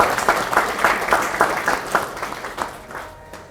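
An audience at a party members' meeting gives warm applause, a dense wash of many hands clapping that gradually fades toward the end.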